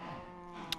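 Minecraft cows mooing, a steady, harmonic low bovine moo held for under a second, clear and close with no talking.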